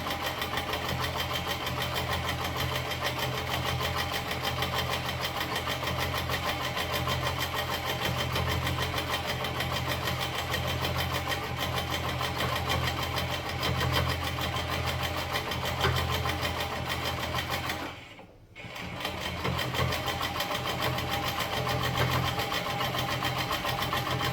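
A sewing machine runs a steady, droning blanket stitch along the edge of a circle appliqué on a quilt, stopping briefly near the end before resuming.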